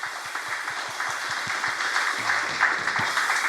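A church congregation applauds steadily during a pastor's sermon, a continuous wash of many hands clapping at moderate distance with a faint rhythmic thump underneath.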